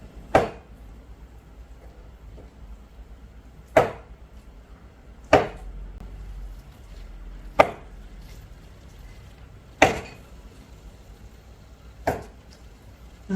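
Knife slicing cooked chicken blood into pieces on a board for a Thai noodle curry, six sharp separate chops spaced a couple of seconds apart in a quiet kitchen.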